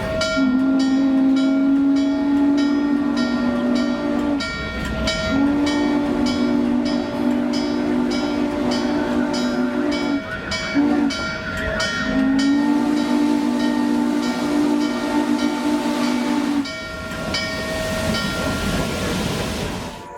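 Norfolk & Western 611 steam locomotive on the Strasburg Railroad sounds a long chime whistle in three sustained blasts, the last held longest, while the train rumbles loudly close by.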